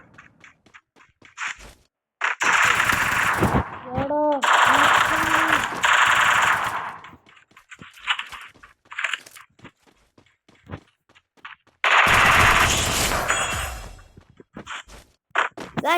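Free Fire video game gunfire, including a Thompson gun, comes in loud bursts of rapid automatic shots separated by quieter stretches of clicks and game sounds.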